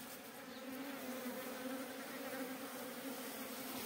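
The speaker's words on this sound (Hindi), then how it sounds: "मधुमक्खियों की जो है फाइट हो रही है।" A honey bee swarm fights at a colony, producing a continuous droning buzz of many wings layered into a steady hum, fairly quiet and sustained throughout with no talking.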